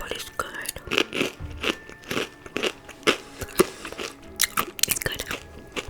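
Crunchy Takis rolled tortilla chips being bitten and chewed up close, a run of sharp crackling crunches in uneven bursts with soft whispered speech between bites.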